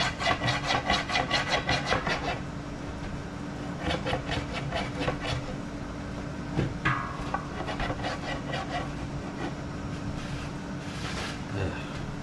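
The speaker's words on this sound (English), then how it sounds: "I'm going to scrape all this junk off." Built-up grime is scraped off a vintage pole saw with quick rhythmic strokes at first, settling into quieter, irregular scraping and rubbing close by.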